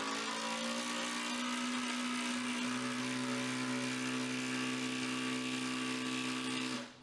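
A Ryobi cordless impact driver runs in one sustained, loud motor whine that drives a screw into wood away from a knot. The tone dips partway through as the load rises, then cuts off abruptly at the end.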